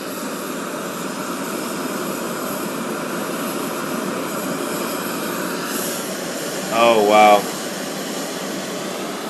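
Jetboil and Coleman camping stoves roar side by side in a steady, loud broadband rush while boiling water, with a brief excited exclamation near the end.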